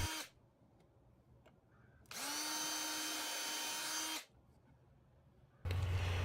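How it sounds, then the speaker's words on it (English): A cordless drill drives 2.5-inch deck screws into a wooden deck box lid, two bursts of steady high whirring from close by, each ending abruptly, separated by quiet handling noises. "I'm pre-drilling and going to drive the screws in."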